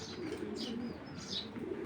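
Racing pigeons, proven breeding pairs kept in a loft, give soft cooing with a few quick high chirps, faint and close, without any talking.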